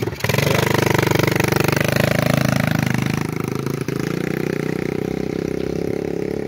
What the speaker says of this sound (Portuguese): nós vamos testar a moto de trilha aí, ó